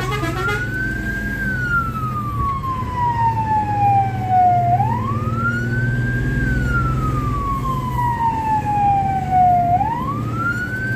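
A fire engine siren wails in long rising and falling sweeps, loud and close, over a steady low engine rumble while the truck moves through traffic on the way to a grass fire.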